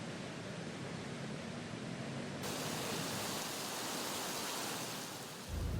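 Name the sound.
rushing floodwater of overflowing Marikina River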